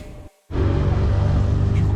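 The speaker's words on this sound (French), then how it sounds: "on est à l'arrière d'une benne, on est à l'arrière d'un pick-up" Wind and road roar from riding in the open back of a pickup truck in Honduras: a steady, loud, close rumble of buffeting air and engine, broken by a brief near-silent dropout.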